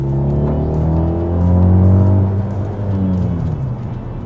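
A 2014 Alfa Romeo MiTo's turbocharged petrol engine revs up and settles again, a loud, close, deep rumble that swells through the middle of the burst before easing off, with no voices.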